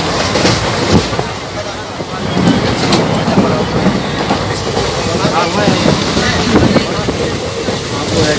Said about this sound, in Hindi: चले जा रहे हैं ट्रेन में और कुछ देर में ही हम पहुंच जाएंगे